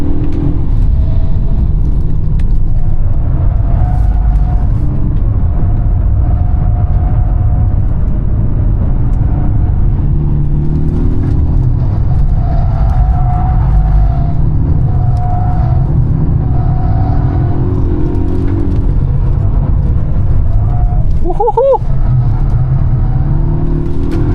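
A Polestar 1 hybrid, with a combustion engine up front and electric motors in the back, is driven hard on a race track. Its loud, steady engine and road rumble fill the whole stretch, with small shifts in pitch as it accelerates.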